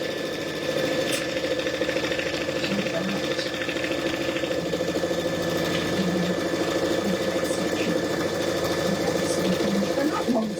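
A Brother Luminaire embroidery machine stitches red thread on cotton fabric with a steady, loud, continuous mechanical hum and rapid needle rhythm, and a voice talks faintly over it now and then.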